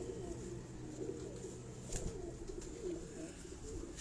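Soft repeated cooing of pigeons at a breeder's loft, several low throaty coos rising over quiet background noise, with no speech.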